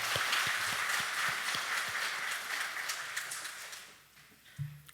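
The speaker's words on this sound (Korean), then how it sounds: "임마누엘 성가대에게 다시 한번 격려의 박수 한번 치겠습니다" Church congregation at a Sunday service applauds the choir, a fairly soft, full clapping that thins and fades out toward the end, followed by a single low bump.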